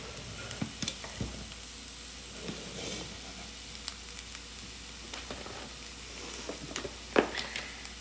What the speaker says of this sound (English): I'm going to throw in my spinach so it will start to wilt as well